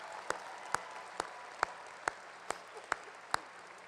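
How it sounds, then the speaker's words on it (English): Applause from a graduation ceremony crowd, heard as a steady, fairly faint wash of clapping with a few sharper individual claps popping out at regular intervals over about four seconds. "Please join me in a warm round of applause and acknowledgement of their influence and leadership."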